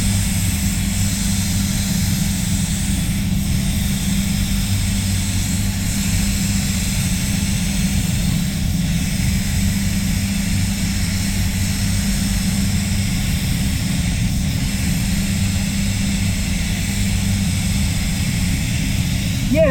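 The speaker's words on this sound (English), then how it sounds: "I'll lower the pressure down a little bit and we'll just pump a coat on" A spray gun lays a second coat of PPG clear coat at lowered pressure, giving a steady, loud, unbroken hiss of air and atomized clear with a low rumble underneath, continuous and unvarying throughout with no talking.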